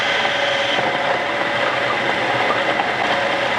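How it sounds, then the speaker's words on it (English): An A-type overdrive spins at high speed on a test rig, giving a steady, loud mechanical whir and rattle with a continuous broadband drone and a few tonal lines, no voices over it. "Let me engage the overdrive, and we will see if the RPMs are gonna drop"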